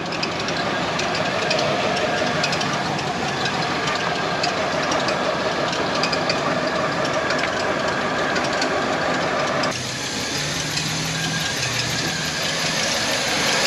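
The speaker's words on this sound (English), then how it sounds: "Got some screechy belts." An abandoned GMC TransMode motorhome engine runs with screechy belts and a long 26-foot exhaust, giving a loud, steady broadband roar that continues throughout and shifts slightly in tone near the end.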